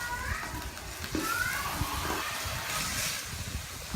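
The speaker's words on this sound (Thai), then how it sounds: "แล้วก็ผัดนะคะ" Stir-frying in a pan while cooking, a soft, steady sizzle with scraping stirs running under a voice talking throughout.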